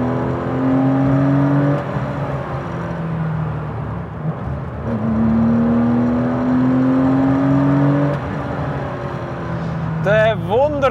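A Porsche 993 restomod's 3.8-litre boxer engine drones steadily from inside the cabin, its pitch climbing and easing through two long pulls before a quick rev blip near the end.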